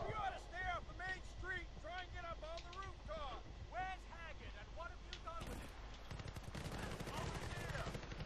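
RPG blasts and rattling gunfire fill a Battlefield: Bad Company 2 battle, with steady combat noise throughout and a burst of heavier explosive rumble near the end, while voices talk over the action.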